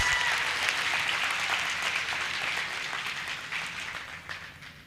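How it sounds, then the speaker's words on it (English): Audience applause for graduates at the Motheo TVET College graduation ceremony in Bloemfontein, a dense sustained clapping from a large crowd that slowly thins and fades over about five seconds. "Give our graduates, ladies and gentlemen,"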